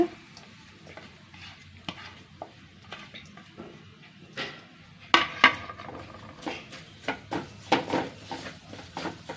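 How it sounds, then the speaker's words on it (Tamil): Grated coconut dry-roasts in a kadai, a soft rustling stir punctuated by sharp spatula scrapes and clinks against the metal pan, quiet at first and growing busier toward the end. "கடாயை வச்சுருக்குறோங்க நம்ம இந்த தேங்காயை போட்டுக்கலாம் ஈரப்பதம் இல்லாத வறுத்துக்கலாங்க"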